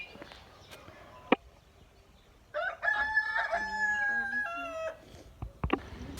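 A rooster crows once in the morning, a loud drawn-out cock-a-doodle-doo rising out of a quiet outdoor backdrop with a few sharp knocks before and after.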